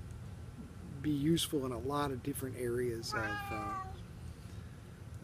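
A 17-year-old pet cat meows several times nearby, with drawn-out, wavering calls in a quiet room while someone speaks over them.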